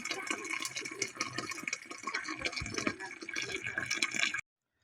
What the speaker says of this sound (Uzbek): Qaynab turgan suvni tagini past qilib, qaynab turgan suvni quyib boramiz endi.